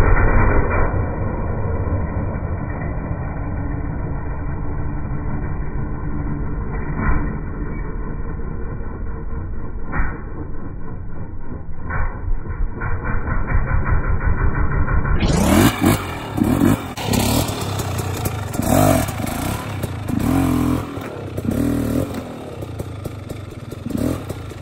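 A motorcycle revs hard while practising small wheelies with the rear brake in the woods, first a muffled, loud engine drone, then a brighter, close roar with clattering and surging revs.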